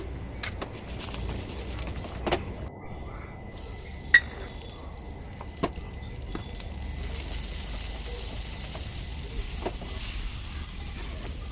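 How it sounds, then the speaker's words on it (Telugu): Gooseberries (amla) fry in a little oil in a kadai with a soft, steady hiss, broken by a few scattered faint pops and clicks. "బాండిలో కొద్దిగా నూనె ఎక్కువ వేసి దాని కలర్ మారేదాకా వేయించాలి"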